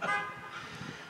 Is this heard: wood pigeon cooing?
no